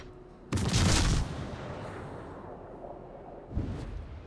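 An artillery shell fired in the Warhammer Dawn of War video game, a sharp loud boom with a short rumbling tail, followed a few seconds later by a second fainter shot.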